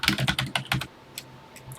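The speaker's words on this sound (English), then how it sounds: "And let's get typing." Quick bursts of keystrokes on a computer keyboard while entering a program into a TI-99/4A emulator, close and crisp, then a pause with a few scattered taps.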